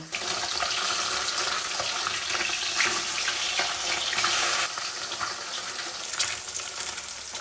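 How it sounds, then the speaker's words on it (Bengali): Turmeric- and salt-rubbed fish pieces crackle and hiss in hot oil in a frying pan, a continuous dense sizzle at close range with small bursts of spattering, no speech. "মাছগুলো সব ভাজা হয়ে গেছে"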